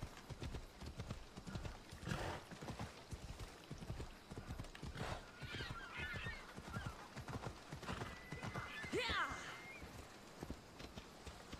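Rapid hoofbeats of a galloping horse in Assassin's Creed Odyssey clatter steadily, with a couple of whinnies rising midway and a brief spoken word over the running.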